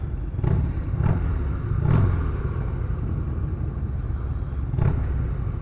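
A Harley-Davidson Road Glide ST with a Trask turbo CVO engine rumbles with a deep, steady idle, broken by several low thumps and short revs spaced a second or more apart, close and fairly loud.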